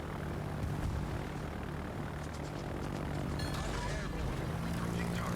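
Steady roar of aircraft engines in the video game World of Warships, a dense continuous drone with a faint rising whine toward the end, with no talking.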